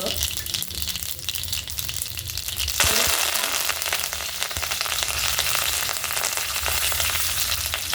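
Cumin seeds and a pinch of asafoetida hit hot oil with mustard seeds already in the pan, giving a close, continuous sizzle that jumps louder partway through and then crackles steadily.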